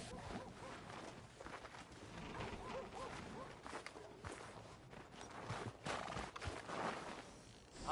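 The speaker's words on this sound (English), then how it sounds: "Are you gonna mount that new horse of yours or not?" In Red Dead Redemption 2, a horse whinnies and snorts while hooves clop and shuffle on the ground nearby, with tack rustling throughout a busy, continuous outdoor scene.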